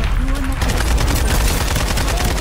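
Gunshots in the Farlight 84 video game rattle off in a quick, loud series of rapid shots over a dense game soundscape, with a voice briefly present.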